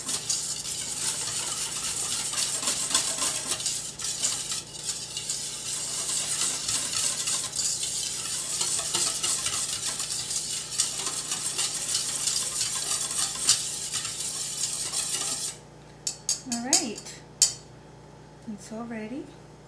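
A tres leches milk mixture is whisked by hand, a continuous rapid swishing and light clinking against the bowl that stops abruptly near the end, followed by a few faint knocks and a voice speaking briefly.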